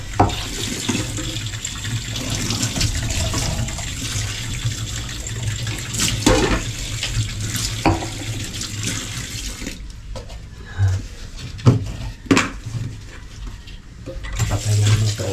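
Hands are washed under a running tap, a steady close gush of water with intermittent splashes and knocks against the sink.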